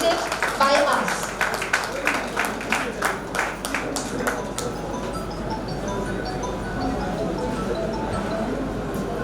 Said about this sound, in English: I would ask you all to give a huge round of applause when they are being felicitated by us